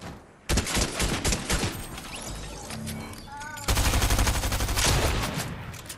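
Shotgun blasts in the video game Fortnite, a rapid burst of loud, dense shots in succession with other game effects layered around them.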